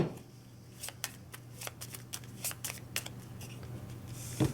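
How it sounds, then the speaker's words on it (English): Playing cards from a villain deck are shuffled together in a tabletop card game, giving a run of quick riffling flutters and soft card snaps over a low steady room hum, close by with no talking. "The other cards are shuffled back into the villain deck."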